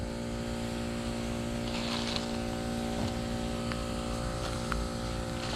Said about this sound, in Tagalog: Ba't may tunog? Siyempre, yung ano yan, motor.